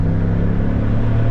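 A 6.2-liter V8 truck engine rumbles through its aftermarket exhaust, a steady, deep, meaty drone held loud and close, with no talking.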